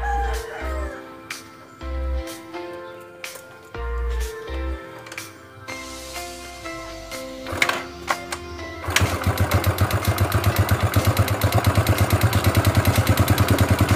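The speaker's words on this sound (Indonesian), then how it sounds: "ini motor udah hidup" A few sharp clicks and clatters give way to a Yamaha Mio motorcycle engine ticking over, a fast, even putter that runs steadily to the end.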